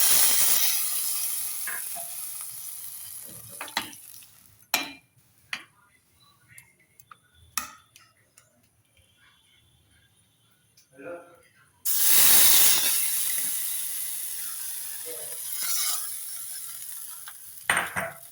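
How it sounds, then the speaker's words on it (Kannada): Spices hit hot oil for a South Indian tempering for a potato and brinjal sambar, giving a loud, bright hiss and sizzle that bursts out, fades to scattered crackles and pops, then flares up strongly again. "ಒಗ್ಗರಣೆ ಹಾಕ್ತಾಯಿದ್ದೀನಿ."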